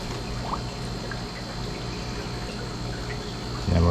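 Steady pouring and trickling water rinsing freshly cut hard coral frags from a saltwater reef tank, a continuous close wash with a louder splash near the end.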